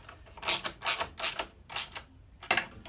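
Ratchet wrench clicking in several short bursts while torquing the crash protection bolts on a KTM Duke motorcycle, close and fairly loud with brief pauses between strokes.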